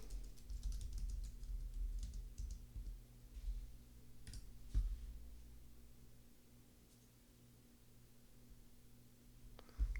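Soft keystrokes on a computer keyboard as a dollar amount is entered into a tax form, a few faint clicks clustered near the start over a low steady hum, with a sharper tap midway.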